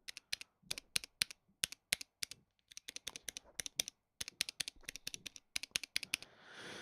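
Mechanical keyboard keys typed up close in an ASMR style: crisp, irregular clacks arrive in quick bursts with short pauses, and a soft rustle follows at the end.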